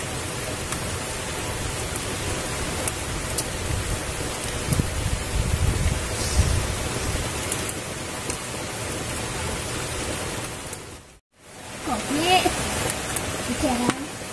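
Heavy rain pours down on a campsite, a steady dense hiss that holds throughout before a brief near-silent break, then resumes with a voice talking over it.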